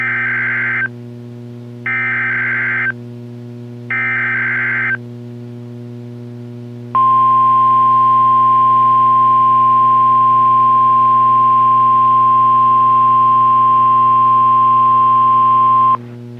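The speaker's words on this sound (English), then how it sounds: "This is a test of the National Weather Service NOAA Weather Radio Warning Alarm System." A NOAA Weather Radio warning alarm system test plays three short pulsed beeps, then a long, loud, steady alarm tone lasting about nine seconds over a constant low broadcast hum.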